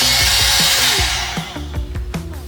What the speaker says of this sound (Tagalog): Grabe ingay ng blower.